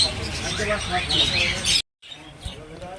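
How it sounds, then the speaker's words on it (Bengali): Budgerigars in a cage squawk and chirp in a busy chatter, close and fairly loud, cut off by a brief gap before quieter calls resume. "দেখতে পাচ্ছেন সুন্দর সুন্দর বদ্রি পাখি"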